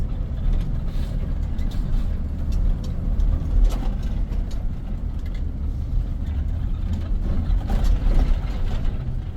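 A 2013 Temsa Safir coach with an automatic gearbox is driven along the road. A heavy engine gives a deep, steady rumble with road noise inside the cabin, and it carries on without a break.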